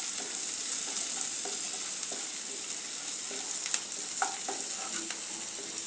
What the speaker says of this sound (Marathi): गाजरही त्यात फ्राय करून घेऊया।